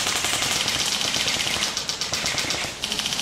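Airsoft guns firing in a fast, continuous rattling stream during a game in a maze course, loud and close with dense rapid snaps and no clear talking.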